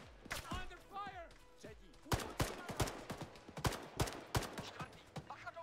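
Rapid gunfire in the military shooter ARMA 3 crackles in close, sharp bursts of many shots, with a voice briefly heard early among the firing.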